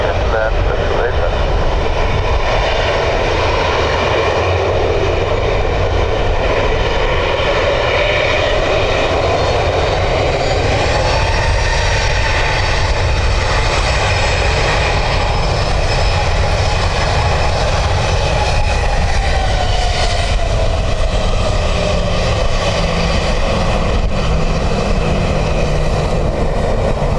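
A jet airliner lands at Dublin Airport in windy weather, its thrust reversers roaring in a loud, sustained, broad rush that eases off as they close, with radio chatter faintly underneath.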